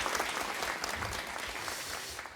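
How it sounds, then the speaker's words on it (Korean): A studio audience at a televised crowdfunding event for social enterprises claps steadily, with a sustained wash of dense applause throughout at moderate loudness. "박수 부탁드립니다."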